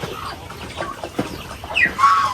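Short clucking calls from a male turkey sound close by, with a sharper squawk near the end over a quiet background.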